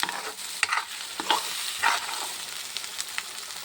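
Masala and drumstick pods stir-fried in a pan, a continuous sizzle broken by repeated scraping stirs and spatula knocks.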